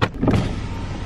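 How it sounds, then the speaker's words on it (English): A car's electric power window winds down in one steady, continuous motor whine lasting about a second, close by inside the vehicle in a supermarket car park on a rainy day. "I'm going to open the window."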